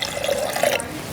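Water poured into a container, shown as a demonstration of filling a camera sensor pixel; a short, steady trickling and splashing of liquid, fairly close and with no talk over it.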